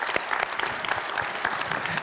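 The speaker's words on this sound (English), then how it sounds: "Let's give a big hand of applause to the panelists." Audience applause for panelists at a session wrap-up, a lively burst of many hands clapping with crisp individual claps standing out near the front.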